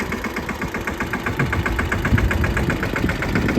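A farm tractor engine runs steadily at idle with a rhythmic knocking pulse, close and continuous throughout, with no talk.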